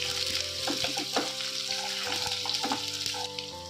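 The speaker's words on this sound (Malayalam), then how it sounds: "അതും കൂടിയിട്ട് നമുക്ക് നല്ലോണം ഒന്ന് ഇളക്കി കൊടുക്കാവുന്നതാണ്." Shallots frying in a pan for a Kerala mixed vegetable thoran, a steady close sizzle with scraping stirs of the spoon running through it, no talking.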